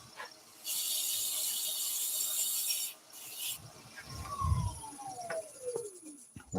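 A wire brush pressed against wood spinning on a lathe while turning a small wooden gonk, a bright scratchy rasp for about two seconds, a short second burst, then lower rubbing and a slowing whine, close by.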